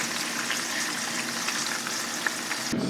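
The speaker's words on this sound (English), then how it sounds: "We're going to just cook them fast in the hot oil" Green onions frying fast in hot oil for a Vietnamese pork dish, a steady close sizzle with brief crackles and a stir near the end.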